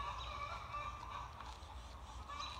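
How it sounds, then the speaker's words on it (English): A French hen clucks and calls in bursts amid other chickens, with a constant low background rumble. "That's my loud French hen."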